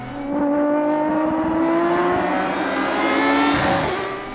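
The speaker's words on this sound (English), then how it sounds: "As I turn that down, the car comes alive, powering out of corners much more aggressively and spinning up the rear wheels on every mid-corner bump." A Lamborghini Essenza SCV12 track car's V12 engine revs hard as it powers out of corners on a circuit, a loud rising and falling engine note with gear-linked pitch sweeps and no talk.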